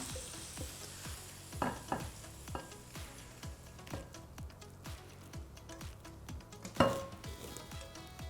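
Sautéed beetroot and carrot are stirred in a pan, with a steady run of scraping strokes over a soft sizzle and one sharper clatter near the end, close and moderately loud with no talking.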